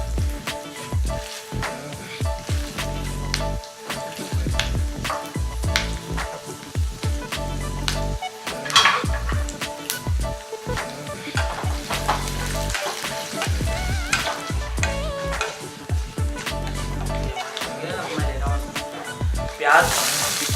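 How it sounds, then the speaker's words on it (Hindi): Peanuts and urad dal roast in a hot pan for upma, with crackling and a soft sizzle broken up by repeated scraping stirs. A voice talks faintly now and then in the background. "अब हम डालेंगे इसमें अपने मूंगफली के दाने, थोड़े से भून लेंगे"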